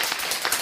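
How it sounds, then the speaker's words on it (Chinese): A brief burst of audience clapping during a talk, dense and loud, lasting under a second. "你来鼓掌一下"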